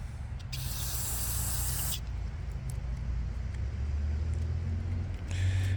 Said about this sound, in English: We're going to spray her out.